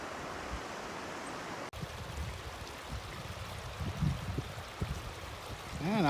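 A cascading mountain waterfall in a Jasper National Park basin along the Skyline trail rushes as a steady, distant broadband wash, with some brief low thumps and movement nearby.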